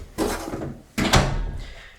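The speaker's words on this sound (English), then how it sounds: "I'm gonna close the door" A room door is pulled shut, with one soft bump followed by a second, louder thud and a short rustle, close by and with no voices.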